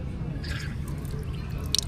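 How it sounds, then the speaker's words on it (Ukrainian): An old marble water tap at Topkapi Palace in Istanbul runs with light dripping and splashing into its basin, fairly close, with a few sharper drops near the end. "Навіть краник функціонує."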